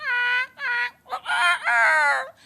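A voice imitates clucking hens, a quick series of five loud, close, squawking cackles with short gaps between them.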